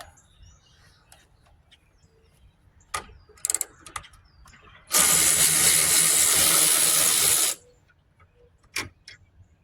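A ratchet works on a broken bolt in a Hyundai Santa Fe core support, with scattered clicks and clanks before a sustained burst of fast ratcheting that stops abruptly, followed by a few more knocks.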